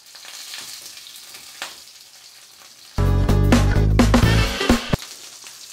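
Shrimp burger patties fry in a pan with a loud, close sizzle that bursts in after a few quiet seconds, crackling steadily and then easing off, with no voices.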